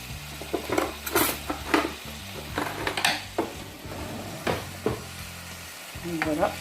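Onion and chili frying in oil in a pot for Tunisian chicken mosli, stirred with a utensil: repeated scraping and clinking strokes over a steady sizzle, close and fairly loud.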